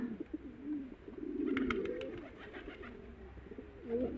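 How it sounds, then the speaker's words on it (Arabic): Domestic pigeons coo steadily in a low, rolling murmur, several birds overlapping at close range, with a few brief higher chirps partway through and no talking. "الحميمات ديالنا راه خوتي راهم على برا كما تشوفوا"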